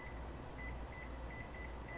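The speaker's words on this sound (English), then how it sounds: "Set our kitchen timer for 25 minutes." A kitchen timer gives a repeating series of short, evenly spaced beeps as it is set, fairly faint over a steady background hum in a home kitchen.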